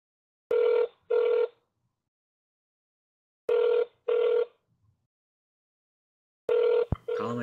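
Telephone ringing in clear double-ring bursts, a pair of electronic trills repeating three times with silent gaps between, before a brief click as if picked up.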